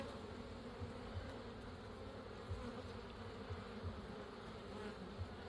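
Honey bees drone inside an opened hive during an inspection, a faint, continuous low buzz with small swells, heard alone without talk.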